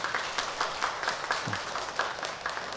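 A church congregation stands and claps in mutual blessing during a Sunday morning service, a fairly quiet, brief patter of hand claps spread across the room.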